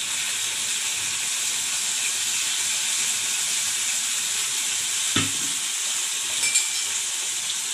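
Steady sizzling hiss of soy sauce and vinegar hitting a hot wok for veg crispy noodles, continuous and close with a sharp clatter near the end and no talk.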